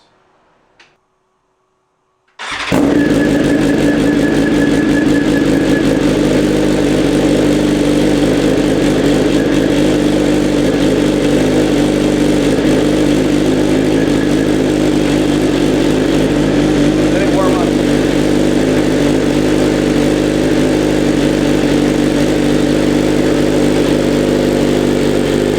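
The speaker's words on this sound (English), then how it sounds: "First cold start with the flash and new Akra headers." BMW S1000RR sport motorcycle with a flashed tune and Akrapovic headers firing up on a cold start, a brief crank then a loud, steady, raspy high idle that drones on unbroken, close to the microphone.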